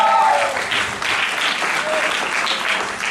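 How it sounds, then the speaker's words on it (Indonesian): A crowd at a church seminar in Duri, Indonesia, applauds loudly and steadily, dense clapping filling the whole moment without a break. "Mari kita berikan tepuk tangan yang meriah."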